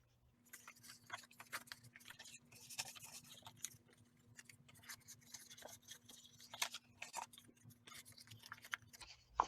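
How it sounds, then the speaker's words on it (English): Cardstock being folded along score lines and fanned back and forth, a series of soft papery creases and rubbing scrapes at close range over a steady low hum, with no talking. "now we're going to fold on the score lines"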